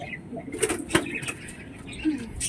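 Quick bursts of wing flapping close by as a young Lotan pigeon is held, a few rustling flutters in short spurts over a faint background murmur.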